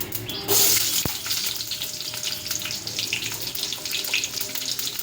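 Onions dropped into hot oil in a pan for a ridge gourd curry, a sudden burst of sizzling that settles into a steady, close crackle, with no talk.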